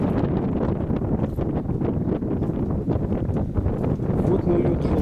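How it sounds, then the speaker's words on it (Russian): Strong wind roars through a rock gate on a rocky terrace during a Siberian expedition, with a loud, constant gusting rush buffeting the microphone throughout. "Ветер сильный через ворота."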